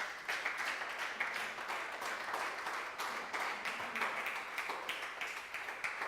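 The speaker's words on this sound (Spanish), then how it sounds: "Un aplauso a él." Church congregation applauding during a sermon, a steady, fairly faint wash of many hands clapping that carries on evenly for several seconds without any voices over it.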